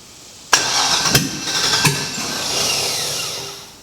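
A 2001 Lexus IS300 with an LS V8 swap, out of gas, cranks in three sharp bursts of starter whir without catching, loud and close, then a lingering hum and hiss as it trails off.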